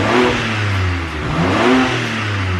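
A rare-spec new car engine revs through its exhaust, loud and close, with a deep rumble that rises and falls over a couple of seconds.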